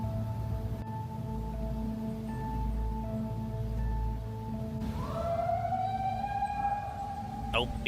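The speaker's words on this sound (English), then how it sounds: "Oh, became an ambulance." A siren rises and wails against a low engine hum, with a steady tone droning underneath before the wailing swell begins partway through.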